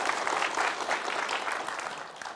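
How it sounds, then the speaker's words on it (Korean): An audience at a parenting talk concert in Gwangju breaks into applause, dense even clapping sustained throughout at moderate loudness with no voices over it. "박수 부탁드립니다."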